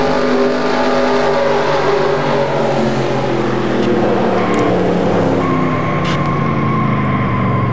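Onboard race car engine in a stock car video game at Talladega, a loud steady drone held at high revs throughout, with the growl of nearby cars in the pack around it and no talk.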